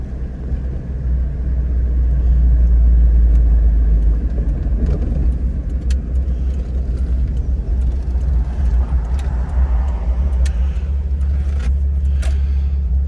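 A 1977 Alfa Romeo Alfetta 2.0 GTV drives on a road and slows as it enters a 20 zone, giving a steady, loud low engine rumble with road noise inside the cabin.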